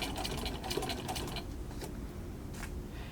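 An old sewing machine stitches a fabric face mask, its loud, close, steady rapid needle chatter running continuously with brief shifts in pace, and no voices over it.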